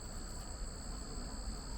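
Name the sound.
bees buzzing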